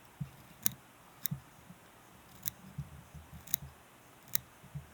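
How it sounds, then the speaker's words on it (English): Scissors snip fibers while a fly is being tied at a vise, making a series of sharp, close, isolated clicks at an irregular pace over quiet background. "So just making my cuts, tapering back towards the tail. I'll keep my scissors at the same angle and just rotate the vise"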